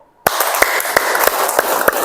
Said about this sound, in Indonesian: Nah, itu tepuk tangan yang benar.